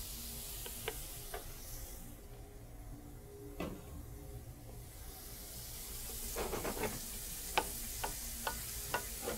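Shrimp going back into a thickening sauce in a pan, giving a steady broadband sizzle and hiss with scattered ticks and scraping clicks, busier toward the end, heard alone at moderate level.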